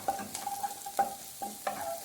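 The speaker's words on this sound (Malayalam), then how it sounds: "ഇത് നന്നായിട്ട് ഒന്ന് ചുവന്ന കളറാകുന്ന വരെ വറുത്ത് കൊടുക്കുക" Onions frying in a pan for green gram curry: a continuous sizzle broken by regular scraping stirs of the spoon, each stroke sharp and close.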